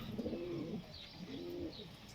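A Reyhanlı Posta pigeon coos twice, soft low throaty calls close by, with faint chirps in the background.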